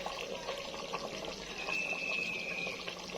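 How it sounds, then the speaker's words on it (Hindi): Lemon juice is poured into village-style chicken biryani, making a steady, continuous splashing trickle of liquid that stays close and even throughout. "ये लीमू का रस ऐड करेंगे"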